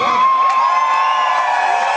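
Concert audience up in the balcony of a Paris concert hall screaming and whooping during a song, a dense sustained crowd roar with a rising shout, loud and steady throughout.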